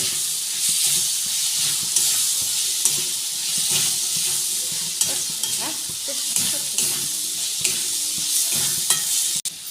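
Water from ground spices poured into masala frying in a pan for a mushroom dish, producing a loud, steady close sizzle and hiss with occasional stirring clicks throughout.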